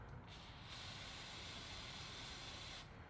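Aerosol cleaner sprayed onto the brake pad pin of a Suzuki Hayabusa during a brake pad change: a steady, close hiss that starts almost at once and holds for nearly three seconds before cutting off, with no voices.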